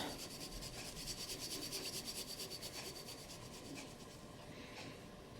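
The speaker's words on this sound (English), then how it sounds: "to spread out all the olive oil, and then just start rubbing" Hands rubbing olive oil across a surface while making a winter globe decoration, giving a steady, soft, close-up rubbing and scraping texture that repeats rhythmically throughout, with no talking.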